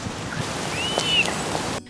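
Steady rain falls in a television scene in New York, a dense, even hiss of drops with a faint whistling tone drifting through before it cuts off abruptly.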